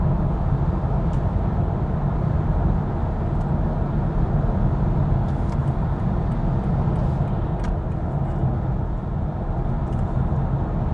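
A BMW i4 eDrive40 RWD electric car drives and overtakes on the road, heard from inside as a constant, loud low rumble of tire and road noise, with no talking.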